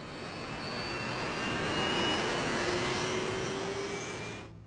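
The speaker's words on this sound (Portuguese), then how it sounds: "Os motores a jato contêm turbinas que produzem diferentes sons, dependendo da velocidade que estão girando" A steady, broadband jet engine roar with a faint high whine, sustained throughout and cutting off abruptly at the end.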